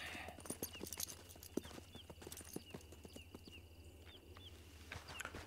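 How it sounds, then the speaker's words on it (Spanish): Horse hooves clopping in the video game Red Dead Online, a steady rhythmic clip-clop of several hoofbeats at walking pace, moderately close, over a low background hum with faint game chimes. "Brownie, joder, Brownie, no te pongas al lado del caballo de guerra, que está chiquito"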